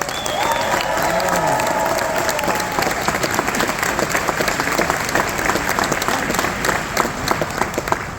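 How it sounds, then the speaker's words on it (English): A crowd aboard the Royal Caribbean cruise ship Star of the Seas applauds veterans with dense, sustained clapping and some cheering, while a voice briefly sounds over the start. "accept this round of applause from us to you"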